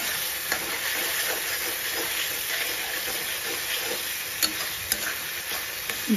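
Taro leaf fritters with dried fish fry in hot oil, a loud, steady sizzle and hiss filling the whole stretch, with a few faint clinks as they are stirred.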